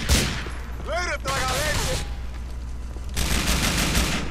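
Gunfire in GTA IV: The Ballad of Gay Tony, with bursts of shotgun and rapid weapon fire at the start and again near the end, mixed with game noise and someone talking partway through.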